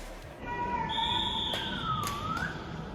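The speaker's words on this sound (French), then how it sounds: "coup de sifflet de l'arbitre" A referee's whistle sounds at the start of an athletics heptathlon race, a sustained shrill tone that wavers and bends in pitch over a couple of seconds, heard at moderate distance over outdoor stadium ambience.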